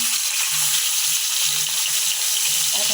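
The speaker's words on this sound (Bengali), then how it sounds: "আমরা হালকা ভাজবো" Pieces of cheng (snakehead) fish fry lightly in hot oil, giving a loud, even hiss of sizzling with soft, irregular low thumps underneath.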